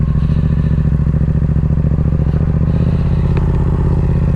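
Yamaha R7 motorcycle with an aftermarket intake and flashed ECU on a test run, a loud close engine roar pulling hard and steady as it accelerates, with faint rattles and no talk.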